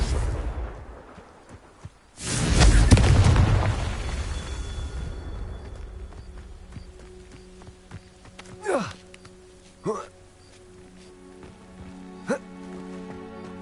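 Confringo blasting spell from Hogwarts Legacy going off as a loud, close explosive burst with a rumbling low tail, followed by softer scattered impacts and a few sharp pops; no voices.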